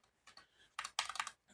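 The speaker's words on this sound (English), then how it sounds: "Why am I typing this wrong?" Quick, quiet clicks of typing on a computer keyboard come in short irregular bursts with a denser cluster of keystrokes near the end.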